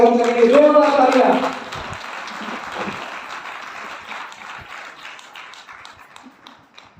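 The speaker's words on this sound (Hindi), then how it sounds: "तो जोरदार तालियों के साथ सर का स्वागत करेंगे, जोरदार तालियां" Audience at a speech program in Goa breaks into applause welcoming the speaker, loud clapping at first that thins into scattered claps fading out, with some voices and talk mixed in.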